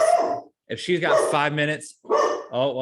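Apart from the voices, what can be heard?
dog barking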